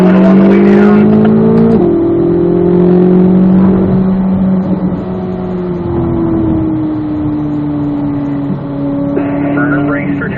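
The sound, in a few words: Corvette Z06 race car accelerating on track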